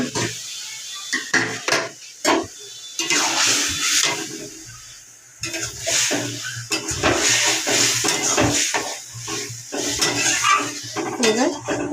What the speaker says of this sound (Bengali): তরকারিটা আবার কড়াইতে ঢেলে দেবো